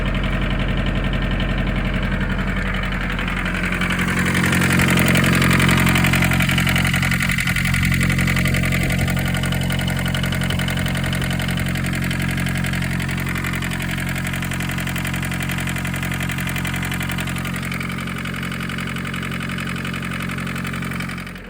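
A 1981 Isuzu Pup diesel engine idles steadily and loudly up close throughout, its rough low rumble holding an even rhythm with a slight swell partway through, hooked up for a vacuum test with the fuel filter bypassed.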